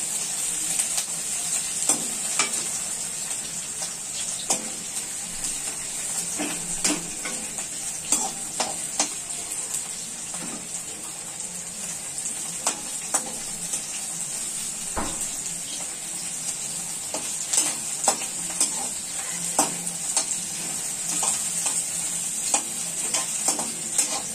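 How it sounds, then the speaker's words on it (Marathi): Pieces of chicken sauté in hot oil for an Indo-Chinese chicken chilli. A steady close sizzle runs throughout, with scattered clicks and scrapes from stirring in the pan. "ही मस्तपैकी आपण तेलामध्ये परतून घेणार आहोत."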